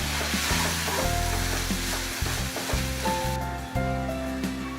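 Egg masala fries in a pan with a steady loud sizzle while a spoon stirs and scrapes, the clunking strokes coming in an irregular rhythm over the constant hiss.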